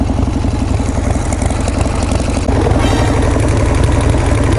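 A Harley-Davidson Sportster motorcycle with an HSR carburetor idling close up, a loud, steady rumbling chug that runs unbroken throughout with no voices.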